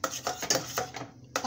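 Egg and bitter gourd stirred in a steel pan, a spoon scraping and clinking against the metal in a quick run of about five light, close strokes.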